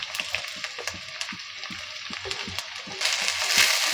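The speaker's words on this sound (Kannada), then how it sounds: "ಇವಾಗ ಈರುಳ್ಳಿ ಹೆಚ್ಚಿರೋದು ಹಾಕ್ಕೊತಾ ಇದ್ದೀನಿ" Four large chopped onions frying in a pan for hotel-style masala dosa, giving a close, crackly sizzle with rhythmic soft ticks that swells louder toward the end, with no voices.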